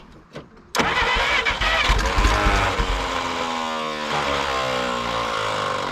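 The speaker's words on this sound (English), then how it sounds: "Runaway starter. Cool. She did fire though." A 1951 Willys CJ3A Jeep engine on a 12-volt battery cranks and fires abruptly after a short quiet lead-in, then keeps running loud and close with a steady rough drone and a starter that stays engaged.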